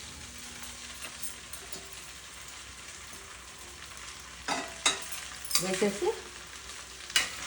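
Sabudana upma with fried potato, salt and peanut powder is stirred in a pan: a soft, steady sizzle is broken by several sharp spoon scrapes and clinks toward the end, and a voice says a brief word.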